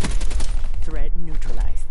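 Assault rifle gunfire rattles in quick bursts in Black Ops 3, sharp close shots mixed with in-game voice lines and effects.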